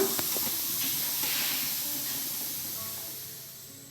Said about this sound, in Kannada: ಸ್ಟೀಮ್ ನಿಂತಾದಮೇಲೆ ಕುಕ್ಕರ್ ಓಪನ್ ಮಾಡಿ